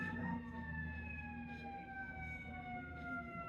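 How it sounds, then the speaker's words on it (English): A fire truck siren wails at a distance, its long tone rising and falling slowly over a low rumble of traffic. "It's a fire truck."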